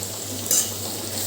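A spoon stirs bitter gourd curry with chili powder, coriander-cumin powder and salt in a pan, a short, steady frying hiss with one quick metallic scrape in the middle, close and alone.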